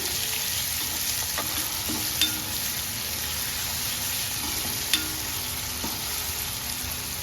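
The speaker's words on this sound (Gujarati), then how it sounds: "અહીંયા મેં આદુ મરચાં અને લસણની પેસ્ટ લીધી છે, એ આપણે એડ કરીશું અને હવે 1 મિનિટ માટે આપણે એને સાંતળી લઈશું" Ginger, chili and garlic paste sautéing in a pan, a continuous loud sizzle with occasional stirring scrapes and light clinks, close up and without talk.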